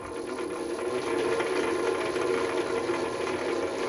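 The spindle of a Qualters and Smith QDM-750 floor-standing pillar drill on a three-phase supply turns at low speed, giving a steady mechanical whir with a faint rhythmic ticking, moderately close and alone.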